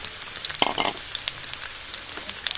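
Taro pieces and Malabar spinach stalks frying in a pan give a soft, steady sizzle broken by scattered pops and a few stirring clicks, with no talking.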